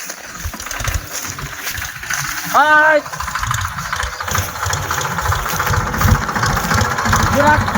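A tractor engine runs steadily in an outdoor rural setting, its low rumble continuing throughout beneath a brief spoken greeting and background voices.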